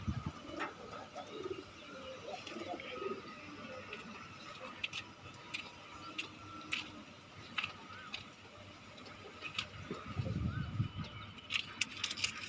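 Pigeons kept in a loft coo softly at moderate distance, low murmuring calls recurring across the stretch with scattered small ticks and knocks and a louder rustle near the end.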